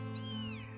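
A cat gives a single drawn-out meow that rises and falls, close but fairly quiet, over a steady low hum.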